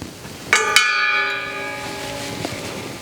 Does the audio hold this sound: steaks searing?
no